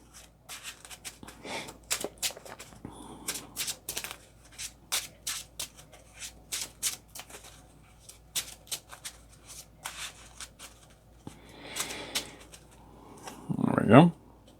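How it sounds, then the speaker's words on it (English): A deck of game cards from a Marvel Champions expert playthrough is shuffled by hand in a long run of quick, crisp riffling bursts, close and fairly loud, ending in a louder flurry. "So let's shuffle that in."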